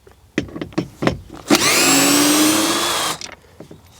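A cordless power tool undoing T25 screws on a Seat Exeo window regulator motor: a few short clicks and knocks, then one steady whirring run of about a second and a half, close and loud, followed by light handling sounds.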